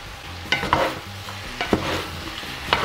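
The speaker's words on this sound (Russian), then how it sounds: "поехали помидорки." Tomatoes being stirred in a pot of hot fat make a soft, steady sizzle, broken by several close scraping and clinking strokes of a utensil at uneven intervals.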